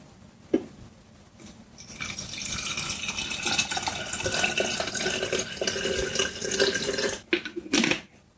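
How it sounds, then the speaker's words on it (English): Water from a tap runs in a steady stream into a bottle to measure out powdered oat milk, starting after a quiet moment and a small clunk, then filling for several seconds before stopping with brief handling knocks. "we're going to measure it up to 200 with our water"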